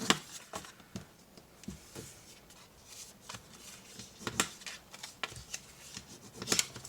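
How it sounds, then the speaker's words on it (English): Scored paper is folded and burnished by hand, giving repeated dry rubbing and crisp creasing swipes in short irregular bursts, fairly close and moderately quiet, with no voices. "We're going to fold and burnish all of my score lines on both pieces of paper."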